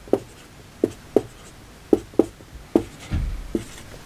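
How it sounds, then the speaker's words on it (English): Pen or marker writing matrix rows by hand, short distinct scratchy strokes in an uneven rhythm, close and clear without talk. "so we can just write them down."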